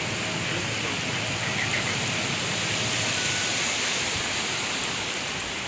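Heavy rain from a storm pours down in a steady, dense hiss, constant and unbroken throughout with no voices.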